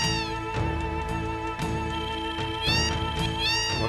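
Cats meow repeatedly in Final Fantasy 7, several rising mews layered over steady game music, clear and fairly loud with no talk.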